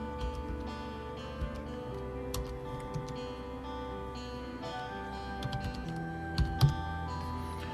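Keys click on a computer keyboard while a library card number is typed, soft irregular taps close by over a steady electronic hum, with a couple of slightly louder keystrokes near the end.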